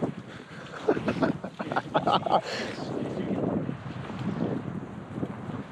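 Wind gusts buffet the microphone on a lake during a fall canoe trip in the Boundary Waters Canoe Area. A steady rush and rumble swells and fades while a person speaks briefly.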